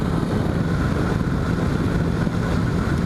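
A 2005 Yamaha FZ6, a fuel-injected motorcycle, runs steadily with a dense, continuous engine drone and rumble heard alone and up close, level throughout with no speech.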